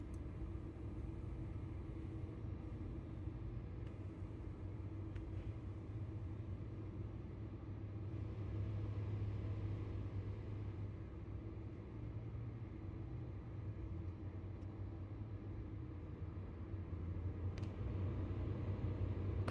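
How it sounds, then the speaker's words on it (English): Steady low diesel rumble of a heavy truck's engine brake in American Truck Simulator, a continuous droning roar that holds near and loud throughout with no voices over it. "Oh, there's the engine brake there."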